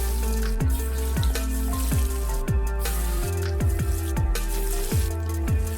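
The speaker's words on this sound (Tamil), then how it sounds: "எண்ணெய் இப்படி தெறிக்கும், கவனமாக போடுங்க." Banana flower vada batter dropped into hot oil in a pan, a continuous loud sizzle with repeated sharp spattering pops as each vada goes in, close up and without speech.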